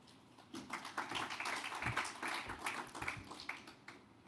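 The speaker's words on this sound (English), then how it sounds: "your applause has reached Paris for sure" Faint, scattered applause from an audience after a talk at a HealthAI side event, a soft patter of clapping that builds and continues, heard from a distance with no voices.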